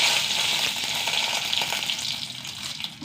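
Fenugreek, mustard seeds and green chilies fry in hot oil, a dense, steady close sizzle and hiss that eases slightly toward the end.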